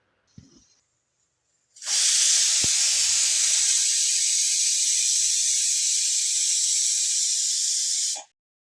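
After a brief click, a pressure cooker whistle releases a loud, sustained steam hiss that continues steadily for about six seconds before cutting off sharply.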